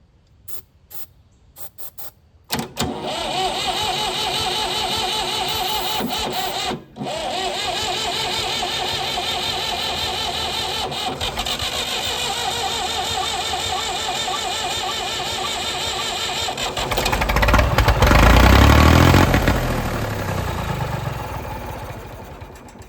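An abandoned Massey Ferguson 2200 tractor forklift, left sitting for 23 years, cranks in a few short bursts, then catches and runs with a rough, loud idle that briefly revs louder before settling.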